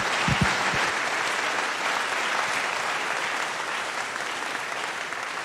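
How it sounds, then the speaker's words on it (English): Steady applause from an audience for GCB Bank during a campus entrepreneurship event fills the whole stretch, dense and even, with a few low thumps near the start. "I think we should clap for GCB Bank."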